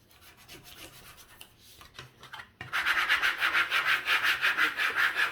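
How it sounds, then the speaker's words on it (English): A glitter sheet for a juice pouch decoration is scraped with a tool, starting with soft faint rubbing, then a run of rapid, rhythmic, close rasping strokes. "so I'm just going to double scrape it"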